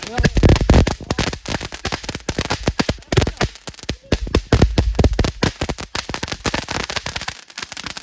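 A Pistol 5G firecracker goes off on Vishu eve in Palakkad, a loud rapid crackling string of sharp pops lasting several seconds close by, briefly thinning before resuming.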